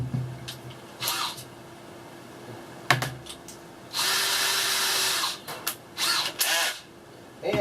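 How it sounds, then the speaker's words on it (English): Power drill with a small bit pre-drilling a hole for a door latch on a 5x8 teardrop camper, a steady whirring burst of about a second alongside shorter bursts and clicks, close by. "And pre-drill a hole"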